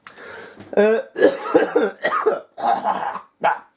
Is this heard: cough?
yes